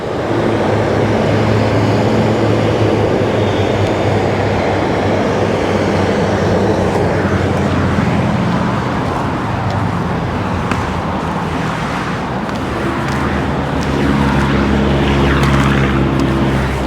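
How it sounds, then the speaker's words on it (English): Yellow northern beaches buses roll into North Sydney city traffic, a continuous loud rumble of engines and tyres with a heavier, deeper engine drone building near the end. "Some of the northern beaches buses, yellow buses coming in, dropping off the punters at their workplaces."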